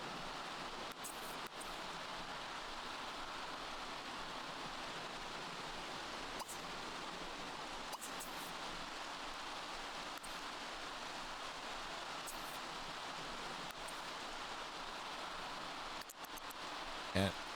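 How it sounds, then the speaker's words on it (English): Steady rain in the video game The Sims 3 hisses softly and evenly throughout, with a few faint brief clicks scattered over the constant wash of noise. "And kind of standing around in the rain."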